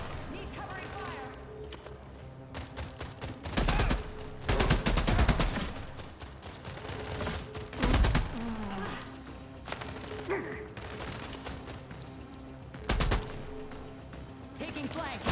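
Covering gunfire in The Expanse: Osiris Reborn, with repeated loud bursts of automatic fire and single shots cutting through a busy combat mix, while voices talk over the action.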